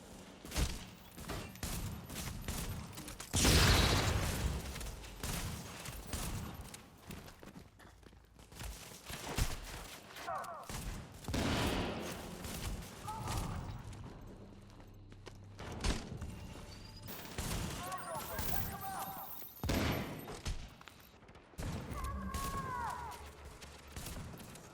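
Gunfire in The Division shooter game, scattered sharp bursts and single shots near and far, broken by quieter gaps, footsteps and other game sounds.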